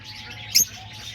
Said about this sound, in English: there's all the birds right there. All the peach face lovebirds.